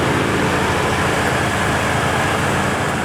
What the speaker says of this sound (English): Got a bit of an exhaust leak up front. You can hear it.